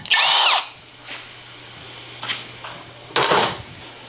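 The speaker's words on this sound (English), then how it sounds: "you can just tighten up those bolts and it'll pop the rotor free" A power tool whirs in two short, loud bursts as it tightens bolts to free the brake rotor on a 2011 Toyota Sienna, with quieter clinks of metal between the bursts.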